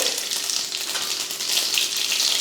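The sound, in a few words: mustard seeds and urad dal spluttering in hot oil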